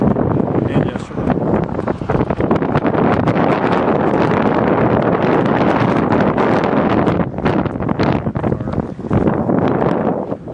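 Strong wind roars and buffets the microphone continuously during a long-distance bike ride across Texas near Tuscola, a loud, steady rushing that dominates the whole stretch.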